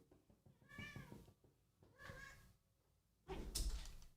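A house cat meows twice in a quiet indoor room, two clear drawn-out calls about a second apart, followed by a louder burst of rustling and handling noise.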